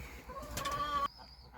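A young hen in a coop clucks and gives a drawn-out squawk up close, with other birds faintly audible around it.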